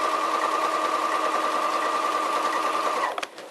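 A sewing machine stitches through layered quilt fabric in a steady, fast, even hum that runs close and loud before stopping abruptly near the end, with no talk.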